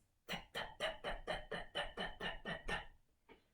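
A voice imitates the steady, quiet whispering hiss of a lawn sprinkler, giving about ten soft rhythmic breathy pulses in a row, then a faint trailing breath.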